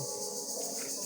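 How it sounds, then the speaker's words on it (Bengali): Crickets chirp outdoors in a steady, high, continuous trill that is faint and unbroken, with no voices. "এখানে অনেক ঝিঝি পোকার ডাক"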